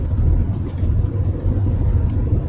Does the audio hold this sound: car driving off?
yes